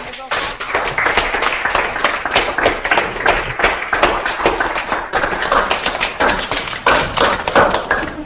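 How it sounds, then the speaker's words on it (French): Schoolchildren at a school in Tunis are applauded over a video link, with steady clapping and sharp taps running throughout at close range, and a voice talking over it. "On peut les applaudir."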